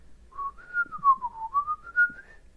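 A single person whistles a smooth, wavering melody imitating a flute, gliding up and down, clear and close with no talking.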